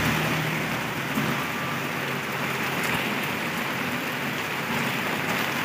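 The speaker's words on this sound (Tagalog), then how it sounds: "Lakas kasi ng ulan." Heavy rain pours down steadily in a dense, unbroken hiss, loud and close throughout, with no voices.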